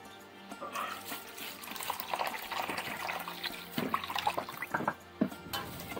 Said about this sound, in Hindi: अब मांस धो लेते हैं।